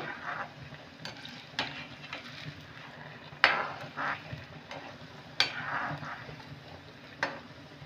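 Sitabhog sweets made from semolina fry in oil over a medium flame, giving a low, steady crackle broken by a few soft scraping clicks as a spoon stirs them gently.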